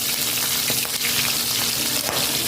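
Garlic and onion sizzle in hot oil for a Filipino sautéed mung bean dish, a loud, steady crackling fry with faint stirring and no talk.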